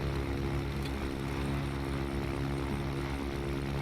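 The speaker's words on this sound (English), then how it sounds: "I love the sounds of the engine as it starts up and comes up to speed." Propeller aircraft engine in Microsoft Flight Simulator 2020 running after start-up on a Chancellor twin, a steady loud droning hum with strong harmonic tones and no voices.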